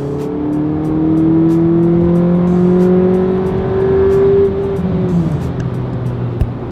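A VW Polo GTI accelerates hard at full throttle, its loud engine note rising steadily in pitch for several seconds before easing off near the end, heard from inside the car with no talking.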